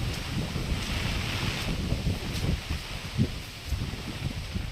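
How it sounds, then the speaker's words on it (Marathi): Strong wind roars across an open village countryside during heavy monsoon rain, a continuous rough buffeting rush on the microphone with uneven gusts and no voices. "हवा पण खूप चालली आहे"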